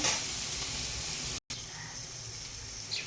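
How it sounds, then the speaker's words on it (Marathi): Onion sautéing in hot oil in a pan while green mung dal amti or usal is cooked, giving a steady broadband sizzle that cuts out for a brief moment, with faint kitchen noises around it. "तर इकडं मैत्रिणी छानपैकी आपला कांदा परतायचा चाललेला आहे"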